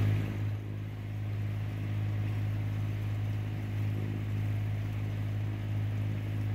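A sailboat motoring along the Intracoastal Waterway past a military shooting range, its engine a steady low drone with water wash, continuous and fairly close throughout.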